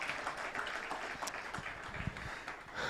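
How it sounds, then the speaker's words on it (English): Awards ceremony audience at a tech challenge clapping, a fairly faint, scattered patter of hands with a few sharper claps standing out. "A round of applause."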